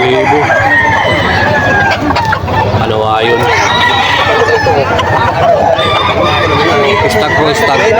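A young gamecock crows amid a busy poultry market, its call rising briefly out of dense clucking, crowing from other birds and constant crowd chatter.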